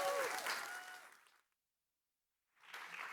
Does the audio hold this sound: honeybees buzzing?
no